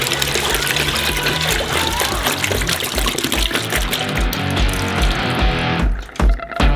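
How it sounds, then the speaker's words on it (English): Bottled chicken eggs poured from a bottle into a bowl, a steady close glugging liquid stream that continues for several seconds before tapering off into a few final splashes. "We open up some bottled chicken eggs and pour them into a bowl."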